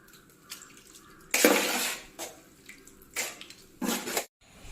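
Water is poured over soaked cooked rice and drained off in several short gushing splashes separated by pauses, close and fairly quiet.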